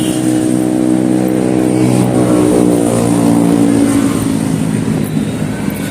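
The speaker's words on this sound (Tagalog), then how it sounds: "Sobrang traffic itong papunta ng Pasay, no?" Dense road traffic heading toward Pasay in Manila, with a loud, steady engine drone and harmonic whine from nearby vehicles, some accelerating, filling the scene continuously.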